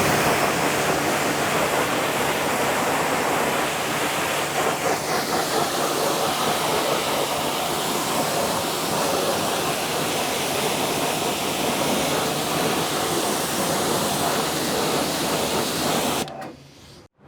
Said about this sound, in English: go get the pressure washer and give them a rinse